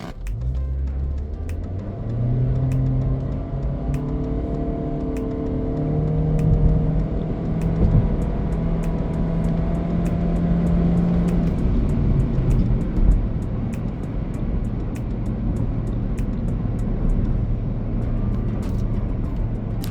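A 2023 Honda Civic RS Turbo in sport mode with the AC off launches from standstill to 100 km/h. Its engine note climbs steadily through several rising pitches with gear changes, loud and close, with no talking.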